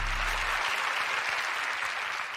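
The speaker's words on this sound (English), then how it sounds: "You should applaud yourselves." A talk-show studio audience bursts into loud, dense applause that carries on evenly, with a brief low voice at the very start.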